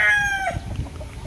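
A Classic White Kelso rooster on a game farm in Tanauan City, Batangas crows once at close range, the call trailing off after half a second into low background rustling.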